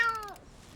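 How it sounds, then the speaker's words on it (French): Cartoon cat giving a single short, bright meow that falls in pitch and fades quickly. "Et voilà un petit chat sain et sauf."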